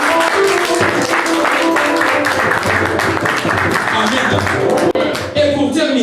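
A church congregation in Switzerland claps and cheers loudly for Jesus, a dense, sustained wash of applause with voices mixed in that continues for several seconds.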